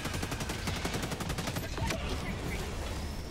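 Sickle laser rifle from Helldivers 2 firing a rapid, steady stream of shots, a dense rhythmic burst lasting a couple of seconds amid a busy battle din of bug combat.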